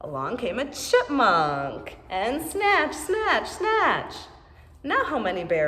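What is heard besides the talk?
No everyday noises stand out.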